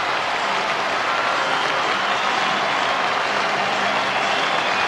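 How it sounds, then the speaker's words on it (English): Football supporters applauding in a stadium after a Kilmarnock versus Falkirk match, a dense, loud wash of crowd noise that stays even and unbroken throughout, with no voice heard over it. "Getting some sporting applause from the Falkirk supporters also"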